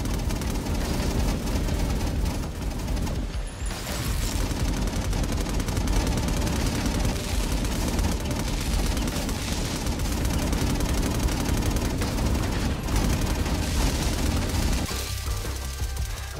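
Auto turrets in Infamous Second Son fire sustained, dense bursts of loud automatic gunfire with booming impacts, continuous throughout and briefly easing near the end.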